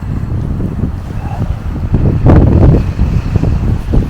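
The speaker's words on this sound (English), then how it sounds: "It's a little windy, cold." Gusty wind outdoors on a cold, chilly day in Kyiv's Livoberezhna area buffets the microphone with a steady low roar, surging louder for a couple of seconds midway before easing, with no voices.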